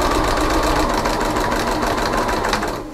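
A sewing machine runs steadily while stitching a fold line on a fabric bowl, a close, continuous whirring hum that fades at the very end.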